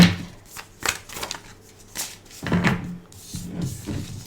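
Tarot cards are shuffled by hand in soft, irregular riffles and slaps, close and quiet, with brief pauses between bursts.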